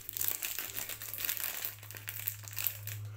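Crinkling and crumpling of Beyblade Genesis Valtriac packaging being torn open close by, a busy stretch of papery rustles and crackles with a steady low hum underneath.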